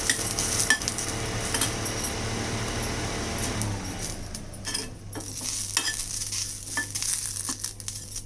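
Drumstick leaves stir-roasting in a dry pan make a steady close scraping and light sizzling, with metal utensil clinks against the pan throughout and no talk.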